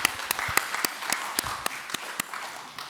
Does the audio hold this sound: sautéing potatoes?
no